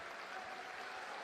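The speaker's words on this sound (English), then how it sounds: "McBride gets the round of applause, rightfully so." Quiet, steady applause from a basketball crowd at a EuroLeague Women game, a brief wash of distant clapping with no break.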